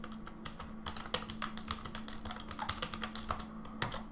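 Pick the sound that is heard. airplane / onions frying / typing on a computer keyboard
typing on a computer keyboard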